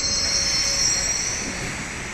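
A train runs through Chepauk railway station on Chennai's elevated suburban line, giving a loud, steady rumble with a high, sustained wheel squeal above it and no voices.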